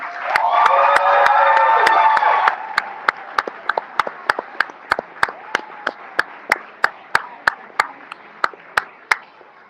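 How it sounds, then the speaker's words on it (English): An audience at a chess club award ceremony in an art museum claps warmly, a dense burst of applause for a couple of seconds that thins into a few scattered, sharp individual claps. "Can we have another warm round of applause for our Dream Team"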